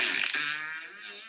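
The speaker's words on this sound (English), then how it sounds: "Is that an actual fart?" A single drawn-out fart, up close and fairly quiet, trailing off over about a second with no talk over it.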